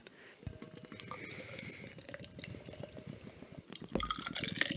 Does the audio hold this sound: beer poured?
yes